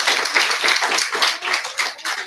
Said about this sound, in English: Applause are always good.